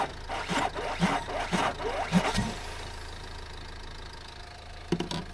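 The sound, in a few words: engine trying to start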